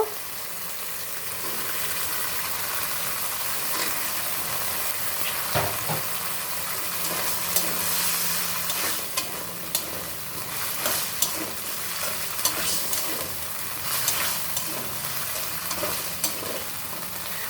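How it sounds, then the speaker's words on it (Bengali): Cut potatoes fry in a pan with spices, a steady close sizzle under repeated scraping and clinking of a spoon as they are stirred, with no talking. "আমি মশলার সাথে কষাইয়াই নিব"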